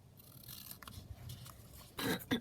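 Scissors cutting paper for a junk journal made from an altered book, a few close, crisp snips with quiet paper rustling between them and two sharper cuts near the end.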